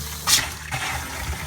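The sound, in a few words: water running through RV faucet during winterizing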